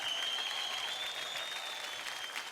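Studio audience at a televised Marathi dance competition show bursts into loud, sustained applause, a dense unbroken clatter of clapping from start to end with no talk over it.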